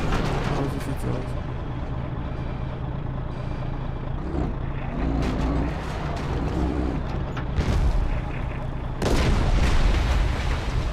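Tank cannon fire in the Battlefield Play4Free video game: heavy booms burst out over a constant rumble of engine and battle noise, with the loudest blast arriving near the end.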